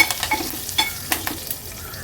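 A hot-oil tempering of cumin, green and dried red chillies, garlic and curry leaves sizzles up close while a spoon stirs it in repeated scraping strokes with sharp little clicks against the pan.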